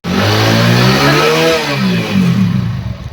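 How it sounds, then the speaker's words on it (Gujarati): A motorcycle engine revving up close, a loud rising and falling mid-pitched roar over about three seconds, no speech. "ફરી ગયું મોટરસાયકલ"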